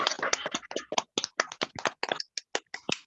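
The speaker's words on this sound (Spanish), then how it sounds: "pido un fuerte voto de aplausos para el doctor Aldo" Sparse hand claps from a small group welcoming Dr. Aldo, the doctor giving a talk on neurodiversity and learning assessment, as a scattered, uneven rhythm of sharp, close slaps with no voices over them.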